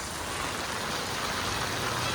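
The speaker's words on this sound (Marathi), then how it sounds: "जोरदार पाऊस आहे." Heavy rain pours down outdoors, heard as a dense, loud, unbroken roar of hiss and spatter throughout.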